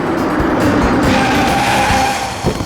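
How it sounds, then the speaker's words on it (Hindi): A car brakes hard to a stop with tires squealing and skidding, a loud close screech over engine roar that fades out in the final moments. "गाड़ी रोको, गाड़ी रोको, गाड़ी रोक रहे हैं"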